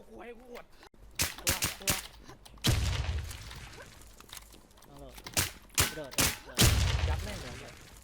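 Gunfire in the video game Red Dead, a rapid string of sharp shots in scattered bursts with heavy booms, mixed with excited talk between volleys.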